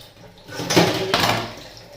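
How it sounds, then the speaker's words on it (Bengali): Water splashing from a tap while dishes are rinsed at a sink, heard as two short gushing bursts with faint clinks of plates, close by and with no talking. "কয়েকটা থালা বাসন ধুয়ে গুল করে দিই ধুয়ে নিচ্ছি বন্ধুরা"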